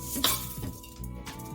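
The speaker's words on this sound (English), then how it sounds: "go ahead and add that rice." Dry rice poured into a pressure cooker pot coated with non-stick spray, heard as a brief rattling clatter with clinks against the metal pot at close range, no talk.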